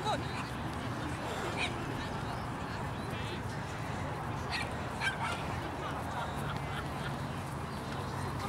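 A dog gives a few scattered barks and yelps amid busy background noise, with people talking nearby and goose-like honking sounds mixed in.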